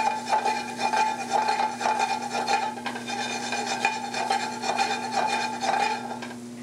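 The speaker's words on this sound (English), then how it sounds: "You want to saute the crab meat just until it's heated through." Already-cooked crab meat sautéing gently in a pan, a continuous rough scraping and rubbing of a utensil against the pan surface over a steady background hum.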